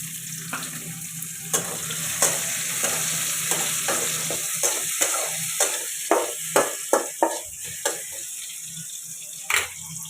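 Chopped tomatoes sizzle steadily in a hot pan for pasta while a spoon scrapes and stirs in a run of quick clicks and taps, close and fairly quiet, with no talking.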